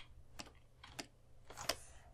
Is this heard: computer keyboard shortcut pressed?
yes